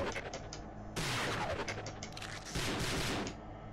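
Assault rifle fire in the video game Prey, two loud bursts of rapid shots about a second apart, each cutting off sharply over a steady game background hum.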